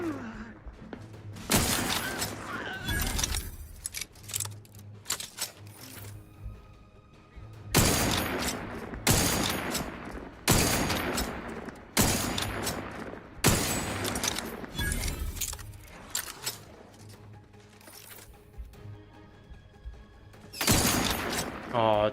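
Gunfire in the video game The Outer Worlds: repeated loud, broadband bursts of shots that come in irregular volleys and clusters with short pauses, over a steady low game hum.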